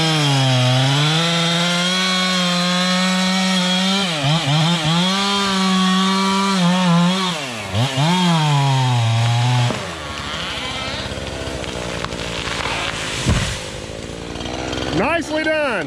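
A chainsaw cuts down a gum tree, its loud engine droning close and steady, rising and dipping under load, then cutting out partway through as the wood creaks and shifts.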